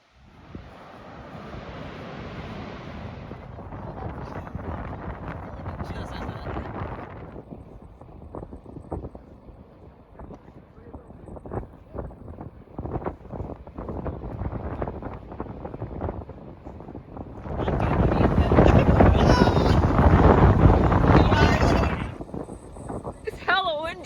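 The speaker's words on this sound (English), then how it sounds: "It's hella windy." Strong coastal wind on Vancouver Island buffets the microphone in loud gusting rumbles, heaviest in a long blast near the end, with people talking intermittently.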